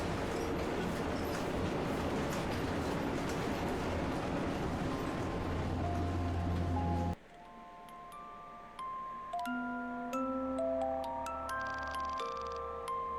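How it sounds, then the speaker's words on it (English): A subway train running in a video game, a loud steady rumble of rail noise that cuts off abruptly halfway, followed by quieter ambience with soft chime-like tones. "The subway keeps running, yet there is no way to know where it is heading."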